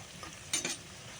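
Lentil fritters (bora) frying in hot oil with a steady, quiet sizzle, briefly louder for a moment as one is flipped or stirred in the pan.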